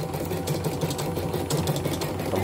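A computerized embroidery machine, unit 12 with a damaged sensor and a hoop mount that will not fit, runs steadily close by, giving a dense mechanical whir with a fast repetitive stitching clatter throughout.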